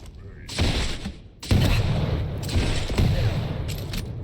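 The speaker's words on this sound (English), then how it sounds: "You made me shoot the wall." Rapid bursts of video game gunfire strike a wall, loud and close, firing in several sustained volleys with short gaps between them.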